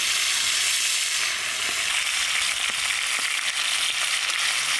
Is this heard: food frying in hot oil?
yes